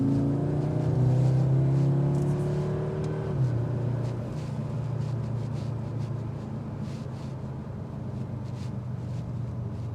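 A 2025 Audi S3 Premium Plus driving through bends, its engine note rising and falling in tone with steady road noise, close and fairly loud, easing off toward the end.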